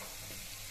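Besan (gram flour) batter fries in a pan over a gas flame with a continuous close sizzle, while a spoon stirs through it in a brief, steady burst.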